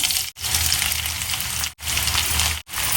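Three sliced onions fry in hot oil in a pan for a Kerala-style potato masala curry, giving a loud, close, steady hiss that stops briefly three times and then resumes.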